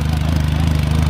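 A Benelli TRK 502 X motorcycle idles close by with its exhaust on, giving a steady, loud, evenly pulsing low rumble that holds unchanged throughout.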